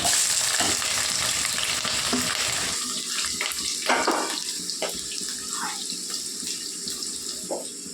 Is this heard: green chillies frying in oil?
yes